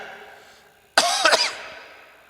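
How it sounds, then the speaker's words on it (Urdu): A single harsh cough bursts out over a quiet room during a lecture on Islamic jurisprudence, a short rasping fit of a few throaty pulses that trails off. "یہ کھانسی آ گئی"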